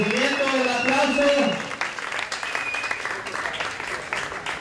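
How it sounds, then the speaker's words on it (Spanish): Spectators at an outdoor paddle board race applaud the finishers, steady clapping rising after a few seconds of an announcer's voice over a loudspeaker, with talk continuing over the crowd. "Fuerte reconocimiento, el aplauso."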